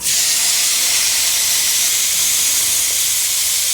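Salted lamb seared in a hot pan gives a steady, loud broadband hiss and sizzle that runs unbroken from start to finish with no voices.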